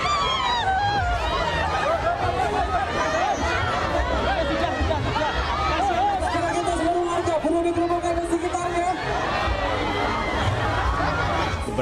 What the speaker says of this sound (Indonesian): Ribuan warga baik pendukung dan simpatisan ini ricuh berebut kaos yang dilempar oleh Joko Widodo dan Lutfi.